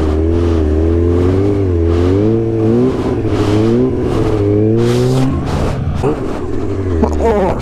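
A car engine revs hard and repeatedly while the clutch is dumped for a launch, with a loud rising and falling engine tone in several swells, ending in a harsher burst as the car pulls away.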